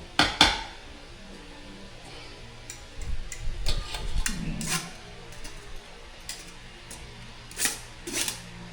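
Utensils scrape and tap against a pan while spaghetti pasta is mixed into leftover sauce: sharp metallic clinks at the start and end, with softer scraping and stirring between, close and fairly quiet.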